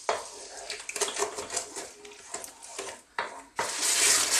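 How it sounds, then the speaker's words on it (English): Utensil stirring and scraping the bottom of a pan of Jamaican fried curried chicken as it cooks, busy continuous scraping with soft sizzle underneath, close and steady, swelling louder near the end. "Stir often and scrape the bottom of that pan and get all of those lovely burnt bits off and get them mixed in."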